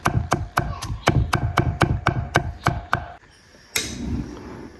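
Rapid, steady knife chopping of garlic on a wooden board, about a dozen close, crisp thwacks in an even rhythm, then a pause and one last louder knock.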